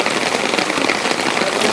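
Steady, dense rain falls outside Studio No. 10 at Film City, a loud, even wash of hiss with no breaks and no voices.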